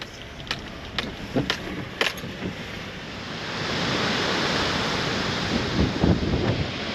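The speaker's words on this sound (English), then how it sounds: "check out the water, and the waves are coming up good" Storm waves surge and break at the shoreline as a hurricane approaches, a continuous roaring wash mixed with gusty wind buffeting the microphone, growing heavier midway.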